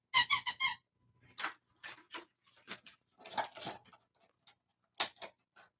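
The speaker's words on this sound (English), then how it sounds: "They all come with these little squeaky rubber ducks." A small rubber duck supplied with a 3D-printer control board gives squeaks, a quick burst of about four short ones at the start, then scattered single squeaks and short pairs at close range.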